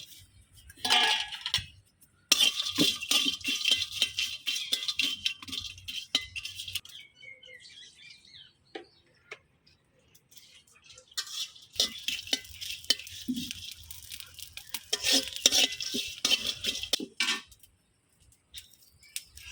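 Chanda shutki, dried fish, dry roasting in an empty pan, heard as bursts of light dry rattling and scraping from stirring, separated by near-silent pauses.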